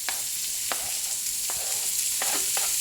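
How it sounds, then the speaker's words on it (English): Onions and habanero peppers saute in a hot pan with a steady broadband sizzle, broken by several sharp scraping stirs from a utensil, close and fairly loud with no voices. "we're going to now start to saute our veggies"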